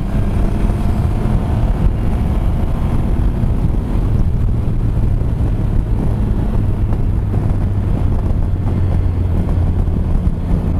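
Loud, constant low wind buffeting roars across the microphone while riding a Triumph Rocket 3 motorcycle, a dense rumbling rush with no letup.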